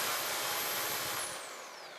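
A corded Makita SDS hammer drill runs close up as a loud, steady, broadband whir with a high whine, then begins winding down, its pitch sliding lower as the trigger is released.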